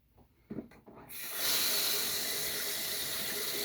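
Tap water rinses a freshly shaved head. A few soft handling sounds come first, then a steady close stream of running water hisses on to the end.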